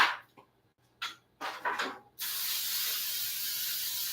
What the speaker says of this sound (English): I'm going to take my pan and I'm going to spray it